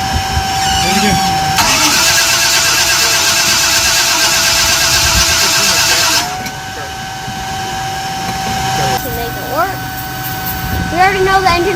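An engine is cranked with a steady whining starter for several seconds, then catches briefly. A second cranking burst follows, with voices talking around it.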